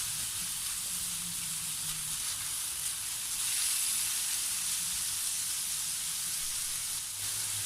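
Pork belly and ingredients for a monggo dish sizzling in a pan while being stirred, a loud, steady, close frying hiss with faint scraping underneath and no talking.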